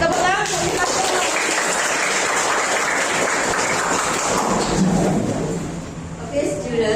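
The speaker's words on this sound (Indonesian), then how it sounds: "Tepuk tangan." Classroom of students bursts into dense, sustained applause lasting several seconds, loud and close, tapering off near the end as a voice begins.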